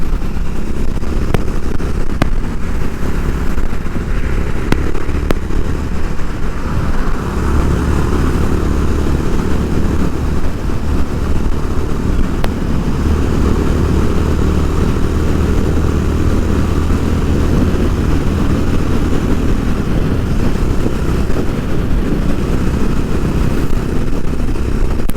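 A Honda H'ness CB350 motorcycle engine drones loud and steady while riding, its low rumble mixed with heavy wind rush across the whole stretch.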